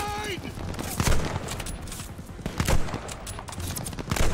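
Dense rifle and machine-gun fire roars through a firefight in the video game Call of Duty: Vanguard, loud and continuous with heavy bursts, while voices shout over the shooting.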